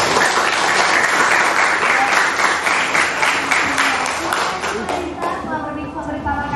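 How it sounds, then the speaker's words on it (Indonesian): Enthusiastic crowd applause at a school event for SMAN Plus Provinsi Riau, dense and steady for several seconds before fading, with a voice speaking over it. "boleh kita berikan tepuk tangan sekali lagi."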